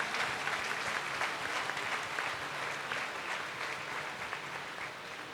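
Pilgrims at a Catholic Holy Mass during the Mariamabad pilgrimage applaud their bishops, a dense, steady wash of crowd clapping that holds at a moderate, slightly distant level throughout.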